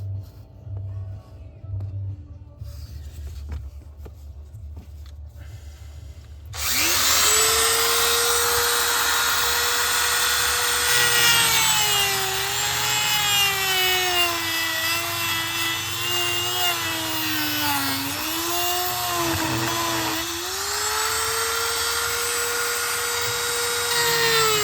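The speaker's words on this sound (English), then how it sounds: "we're going to cut it with a Dremel" A Dremel cuts into a Hummer H1 body panel: after a few seconds of quieter background, a loud, high, whining grind starts abruptly and continues, its pitch dipping and rising as the tool bites into the metal.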